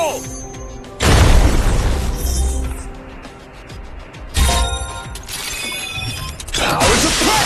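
Video game explosions booming out in two loud bursts, each a sudden broadband blast that decays into rumbling debris and clattering mechanical noise.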